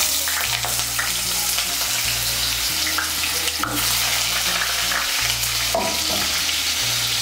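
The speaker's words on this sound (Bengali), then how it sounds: "এর মধ্যে আমি আলুগুলো ভেজে নেব।" Potatoes fry in hot white oil in a wok, giving a loud, continuous sizzle and crackle with occasional stirring scrapes throughout and no voices.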